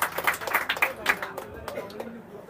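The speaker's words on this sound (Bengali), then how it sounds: "সবাই ফারুক ভাইয়ের জন্য একটু করতালি দেবেন" Audience clapping at a pigeon-flying competition prize-giving ceremony, a short burst of scattered hand claps from a gathered crowd that tapers off, with voices talking underneath.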